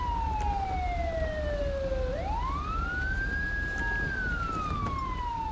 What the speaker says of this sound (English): turn my siren on.